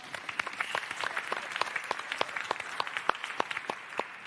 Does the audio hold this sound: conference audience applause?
yes